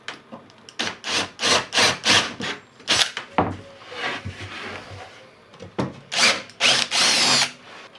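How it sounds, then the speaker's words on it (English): Repeated bursts of a power drill boring wiring holes through wooden skull-shaped shelves, several short whirring runs in steady rhythm with pauses and handling noise between them, close and clear. "I need to add some holes for the wiring at this stage"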